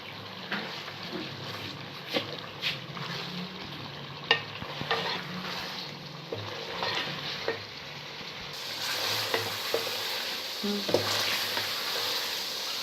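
Tinda gosht, made with round gourd and meat, is stirred and sautéed in a pot with soft scraping and occasional spoon knocks over a gentle sizzle that grows louder and brighter toward the end.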